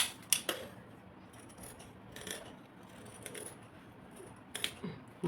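Scissors cutting fabric for a baby frock, a few crisp snips near the start and end with quieter rustling and handling in between, faint and close, no speech.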